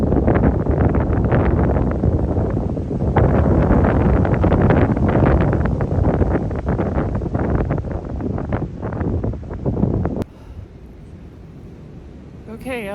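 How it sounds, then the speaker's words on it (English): Strong, cold wind whips across a mountain trail on the Appalachian Trail, buffeting the microphone in loud, gusting roars for about ten seconds before dropping away abruptly to quiet. "I think I've demonstrated the whipping wind"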